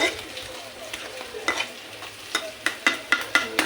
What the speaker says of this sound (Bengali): আমার মশলাটা ভালো করে কষানো হয়ে গেছে